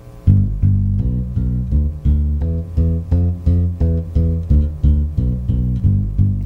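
Bass guitar played in steady, even eighth notes, two plucks per note of a simple pattern, with a warm low tone and a continuous, regular pulse and no other instruments or voices.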